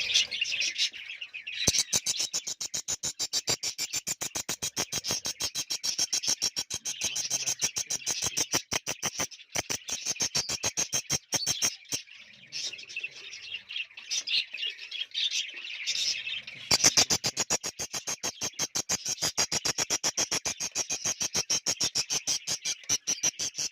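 Budgies in an aviary colony chirp continuously in a dense, busy chorus of rapid high-pitched calls, fairly loud and steady throughout with no talking.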